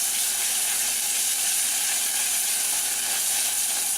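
Curry paste sizzles steadily in a pan over a flame as it is stir-fried for about a minute, a dense, even crackle that holds at a constant level throughout with no talk over it.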